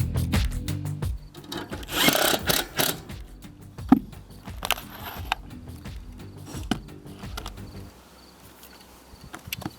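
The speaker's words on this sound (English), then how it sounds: "I have been drilling our own pilot holes on the very bottommost and topmost furring strip" Power drill boring pilot holes into wooden furring strips on a tiny house roof, heard as several short bursts and taps with knocks in between, fairly close and with no talk.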